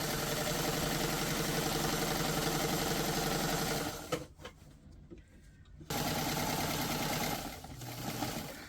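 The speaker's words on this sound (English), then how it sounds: "Every time I start off sewing, I'd backstitch just a little bit." A sewing machine stitches a cushion with a rapid, steady mechanical whir, pauses for about two seconds, then resumes running, close and continuous.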